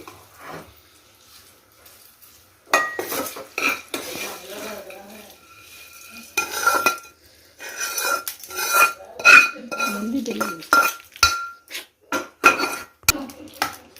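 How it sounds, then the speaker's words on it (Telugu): A spoon scrapes and clinks in a pot as tempering is mixed into cooked rice for citron pulihora, giving irregular metallic knocks and stirring scrapes, some close and sharp, with quiet gaps between them. "అన్నంలో పోపు కలిపేసుకోవాలి"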